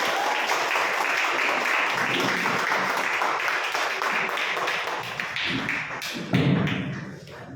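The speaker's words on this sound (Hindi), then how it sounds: "आइए तालियां सबको स्वागत करेंगे।" A church congregation applauds to welcome the pastor at a Sunday service, a dense, steady wash of clapping that holds for several seconds, swells briefly near the end, then thins out.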